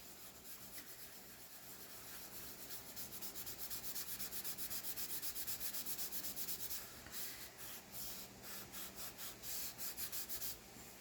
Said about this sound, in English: Take your tissue, clear off the wax.